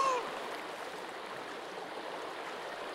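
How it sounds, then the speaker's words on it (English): Loud, steady rushing water fills the scene continuously in Sons of the Forest as the player is pulled along by the current toward shore, a broad even wash with no breaks. "Gosh, the water is loud."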